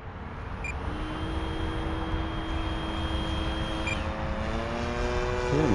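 An FMS F/A-18F Super Hornet RC jet taxiing onto a runway, its electric ducted fan giving a steady, loud whine with tones that slowly rise and shift, heard close and alone.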